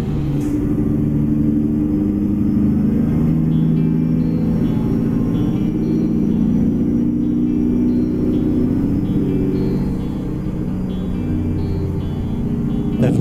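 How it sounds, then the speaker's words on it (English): A heavy truck in American Truck Simulator pulling an Ironwerx IW900 full wooden lowboy rumbles loud and close with its Jake brake, a continuous deep burbling drone that holds steady with slight dips. "Have a listen to the Jake brake."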